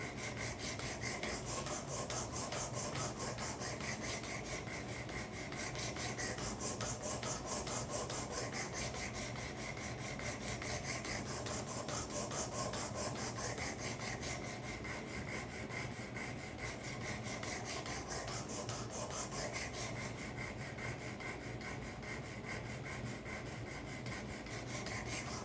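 A karambit blade is sharpened on 320 grit abrasive, giving a continuous rapid rasping scrape with a fast, even stroke rhythm. It runs steadily and close up the whole time, with no talk.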